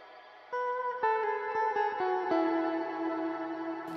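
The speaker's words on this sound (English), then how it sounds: "So that's the reverb without the shimmer." An electric guitar runs through a Line 6 Helix processor on firmware 3.15 with reverb but no shimmer, playing a few picked notes that bloom into a washy, sustained ringing tail with no talking.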